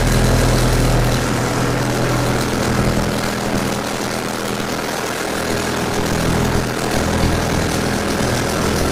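Two engines on a fishing boat run steadily during an overnight fishing trip for dogtooth tuna, a loud, low, constant droning hum with no talking.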